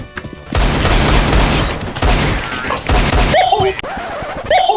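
Heavy gunfire from a Mag-7 shotgun in Counter-Strike: Global Offensive, with a dense, loud burst of overlapping shots and impacts, then quieter clanks and an electronic chirp.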